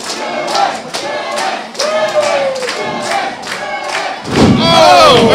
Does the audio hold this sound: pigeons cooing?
no